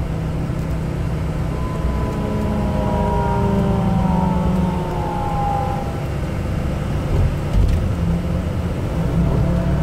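A car drives along a road near Koblenz toward the Rhine, its engine and tire noise a steady, close rumble inside the cabin with gently shifting pitch and no one speaking.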